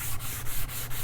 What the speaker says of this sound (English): we're going to start just by sanding this front face